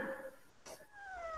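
A one-month-old kitten gives a soft, thin meow, faint and brief against a quiet room background, with a short breathy noise in the middle.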